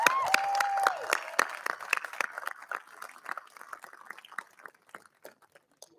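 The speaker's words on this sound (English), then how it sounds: "Please join us in another round of applause" Applause from a crowd at a military academy alumni awards ceremony, dense at first and gradually thinning into scattered claps, with a brief whistle-like tone early on.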